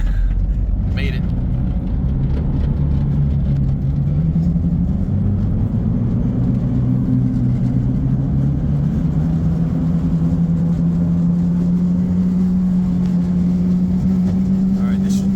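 A Smart car converted to run on tracks, driving at about 30 mph, produces a loud, steady engine drone whose pitch climbs gradually as it speeds up, over a constant rumbling road-and-track noise from close inside.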